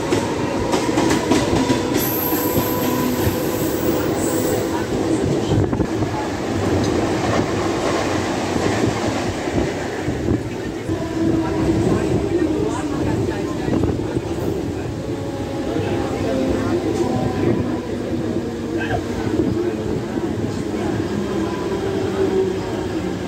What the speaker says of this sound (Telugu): డిపార్చర్ అయితే ఫాస్ట్గా తీసేసుకుంది శాంటా క్రూజ్